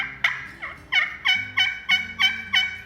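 A handheld turkey call gives a rapid series of about seven sharp, clucking yelps that imitate a wild turkey, close and loud with no talking.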